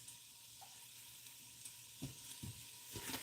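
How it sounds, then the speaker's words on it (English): An onion and garlic slurry sizzles in a pan for a pozole rojo stew, a faint steady frying hiss with a few soft scraping stirs toward the end and no talk. "we got a sizzle going here, so I'm gonna stir these stir this onion garlic slurry"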